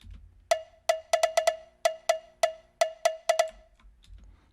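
A cowbell sample sidechained to the kick plays a swung, syncopated pattern of about a dozen bright metallic hits, each one ducking and swelling back in a pumping rhythm.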